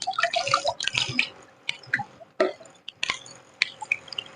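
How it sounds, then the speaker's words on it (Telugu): Water poured from a mug splashes and drips onto orange or fruit peels soaking in a container, a series of close wet glugs, trickles and squishy splashes with short pauses between pours. "నార్మల్ వాటర్ ఒక మూడు మగ్గులు నార్మల్ వాటర్ని కలుపుతున్నాను"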